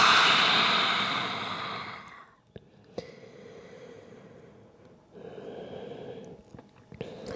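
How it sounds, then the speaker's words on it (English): A slow exhale through the mouth during a yoga breathing practice, loud and breathy at first and fading out, followed by quieter breaths and a few faint clicks. "Exhale through the mouth."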